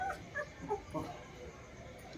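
Newborn puppies and their mother dog let out a few faint, high whimpers and yips close by, brief soft cries clustered in the first second against a quiet background.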